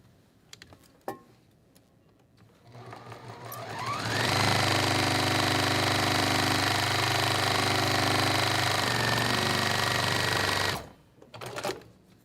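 A home sewing machine runs a quarter-inch seam across a pinned quilt block, starting with a few soft clicks, then whirring steadily and loudly for about six seconds before stopping abruptly.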